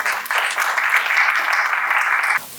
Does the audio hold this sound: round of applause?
yes